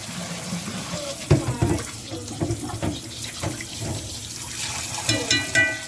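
Salt mackerel is rinsed under a running kitchen tap, with steady splashing water, a few clunks and handling noises throughout, moderately close.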